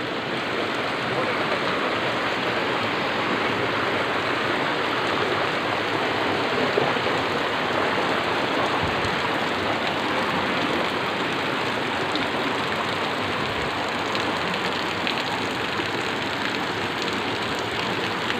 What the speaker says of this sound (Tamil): தண்ணி சிவன்லேருந்து மேலேருந்து ஊற்றுது.